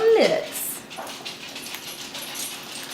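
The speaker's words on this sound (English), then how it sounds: "Dogs are coming over because I heard the whipped cream can." Dogs whimper and yip briefly at home as a whipped cream can is used, a short high whine near the start followed by faint scattered sounds while a person talks.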